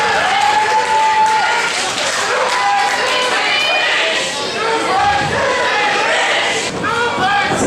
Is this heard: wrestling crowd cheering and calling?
yes